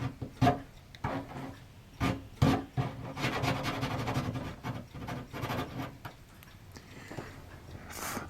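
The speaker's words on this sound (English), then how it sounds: "maybe I could do it with Chris's file here. Just sort of smooth it out a little bit" Hand file rasping across a model ship part to smooth out a rough spot, with quiet uneven strokes close up, then a stretch of steadier rubbing that fades toward the end, without any talk.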